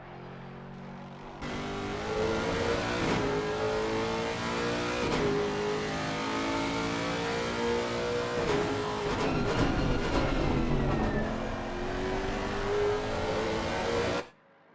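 A Lexus race car at Bathurst in a racing video game, its engine revving loudly and continuously with rising and falling pitch through gear changes, close and dominant.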